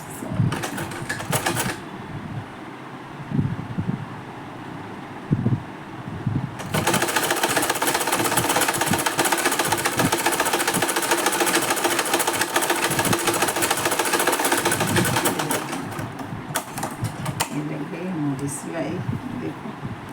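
A sewing machine stitches two blouse pieces together, running in a loud, steady burst of several seconds with shorter starts before and after, while someone talks.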